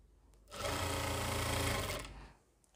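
A sewing machine runs steadily for about a second and a half while stitching scalloped lace trim, a close, even mechanical whir that starts and stops cleanly with no talk.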